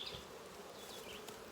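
Bees buzz around an open hive, a close, continuous insect hum with wingbeat whines sweeping past.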